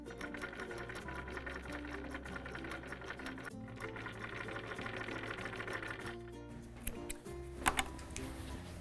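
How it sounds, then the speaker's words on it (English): A sewing machine runs in steady bursts, stitching along the top edge of a felt backdrop for a geometric wall hanging, with a short pause midway and a few light clicks near the end. "pin them into place and sew along the top"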